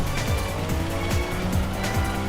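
A Nissan 240Z sliding into oversteer with tires squealing in rising and falling chirps over a constant engine roar, loud and close.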